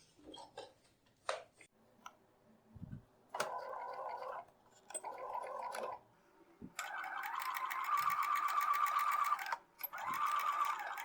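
A domestic sewing machine stitches a foundation paper pieced quilt block in several short bursts, then a longer steady run with a brief pause, close and fairly loud with light handling clicks between.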